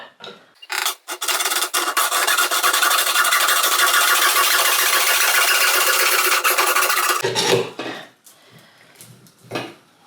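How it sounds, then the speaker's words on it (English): A hacksaw cuts through a metal pipe measured for a pyramid frame build, giving a loud, continuous rasping grind for about six seconds, followed by a few scattered clanks and knocks. "Make sure the screw's on your hacksaw, and let's go."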